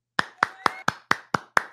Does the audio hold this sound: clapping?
yes